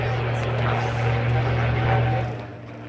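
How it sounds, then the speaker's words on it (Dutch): A Piper PA-28 propeller airplane at the Ursel Avia 2018 air show gives off a steady, droning engine and propeller hum that swells slightly and then eases off near the end. "En hier ziet u de bekende en populaire Piper PA-28."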